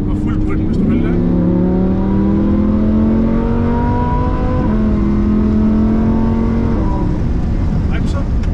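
Lamborghini Huracan at full throttle on a track, a loud, close engine roar climbing steadily in pitch through the gears with one shift in the middle, then easing off, while a voice speaks over it.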